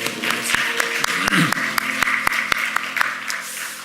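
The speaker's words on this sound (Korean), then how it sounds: "주님 앞에 박수를 드리겠습니다." A church congregation claps together in a steady, evenly spaced rhythm, a full room of hands beating roughly four times a second, fairly loud and lasting throughout, with a faint voice and music underneath.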